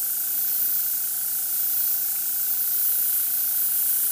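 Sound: airbrush gun spraying paint

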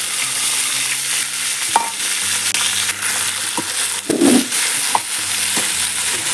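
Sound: sautéing onions and tomatoes in hot oil

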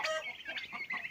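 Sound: turkey poults clucking

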